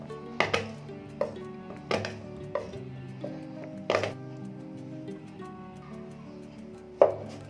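Garlic cloves being chopped on a cutting board, a knife striking in irregular sharp knocks, about eight hits with a steady low background hum between them, close and fairly clear.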